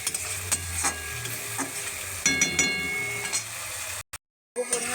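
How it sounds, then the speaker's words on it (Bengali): Chopped tomato and spice masala fries in a pan with a steady sizzle, stirred with repeated scraping strokes, close and fairly loud, then cut by a brief silence near the end. "আর দিয়ে দেব টমেটো কুচি বেশ ভালো করে মশলাটা কষে নেবো"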